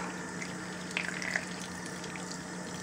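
Running tap water rinsing leopard tortoise eggs, a steady faint stream with soft splashing and a few brief drips, close and alone without talk.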